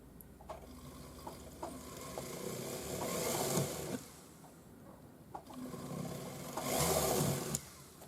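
A hand drill or small rotary drill boring a hole through a scrap piece of timber while making pearl earrings, with two sustained whirring bursts of drilling separated by a quieter pause, close and fairly loud with no talking.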